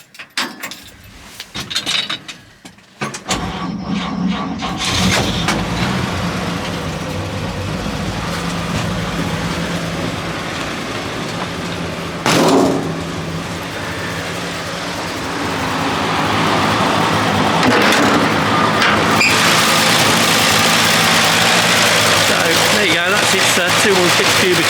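A 1951 Chevrolet 3100 stepside pickup with a 216 cubic inch, 3.5-litre straight-six cranks over after a few clunks, then settles into a steady, close idle that grows somewhat louder and fuller toward the end.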